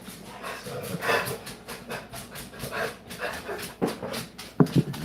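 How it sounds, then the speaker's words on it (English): A dog pants and huffs in rhythmic bursts nearby, ending with a few short, sharp barks. "What are you barking at?"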